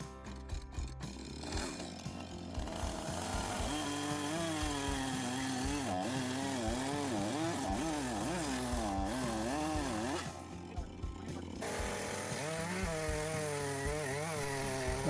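A chainsaw with a freshly fitted chain cuts through thick wooden beams salvaged from long pallets, its engine revving and bogging in waves under load, with a brief pause and then continuous cutting again, steady and fairly close.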